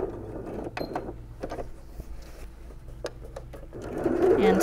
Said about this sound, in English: And then you can just keep sewing down the length of this apron.